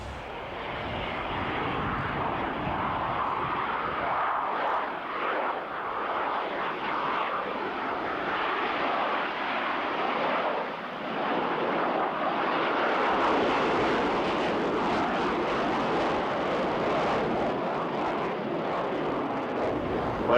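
Blue Angels McDonnell Douglas jet with twin General Electric F404 engines flying overhead at an air show, a loud continuous broadband roar that holds steady for the whole span and swells slightly near the end.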